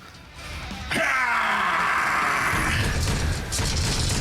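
A player's voice imitates a Space Marine scream during a Warhammer 40k tabletop roleplay session, a loud, strained yell that bursts in near the one-second mark and holds steadily for several seconds before trailing off.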